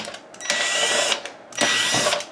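A power screwdriver backs screws out of the cover of a Panasonic Easa-Phone KX-T1740 answering machine, giving two close, loud whirring bursts of about half a second each, separated by a short pause.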